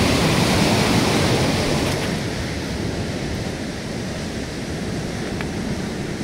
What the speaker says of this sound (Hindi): कितना तेज बहाव है